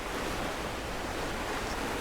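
Water rushes out of a breached wall in Rise of the Tomb Raider, a dense, steady roaring wash like surf or a waterfall, loud and constant for the whole brief span.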